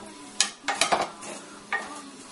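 Cream of wheat dry-roasting in a pan with two tablespoons of butter added: a few sharp scrapes and clinks of a spoon against the pan over a soft sizzle, close and clear, with no talking.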